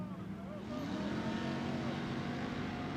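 An Ultra4 off-road race car roars through a turn at the Crandon World Championship, a loud engine rising and shifting in pitch as it passes, with a commentator talking over it.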